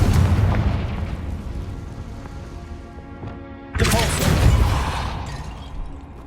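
A Confringo fire spell in Hogwarts Legacy detonates in a sudden loud, broad explosive burst after a stretch of rumbling game ambience, then roars and slowly fades.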